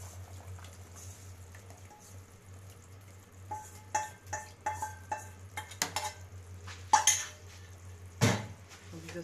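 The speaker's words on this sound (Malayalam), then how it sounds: "നമുക്കൊന്ന് ഇളക്കി കൊടുക്കാം" A pot of pumpkin payasam with coconut milk is stirred under a low steady hum: a spoon clinks and scrapes against the pot in a quick run of light taps, then a couple of louder knocks, all fairly quiet.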